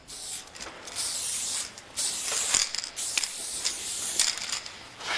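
An aerosol spray can hisses paint out through its nozzle in several sharp, fairly loud bursts of a second or so each, separated by brief pauses.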